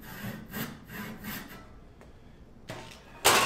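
A hand saw cuts through walnut for an axe wedge in a quick series of rasping back-and-forth strokes, close and clear, then pauses before a final sharp scrape, with no talking.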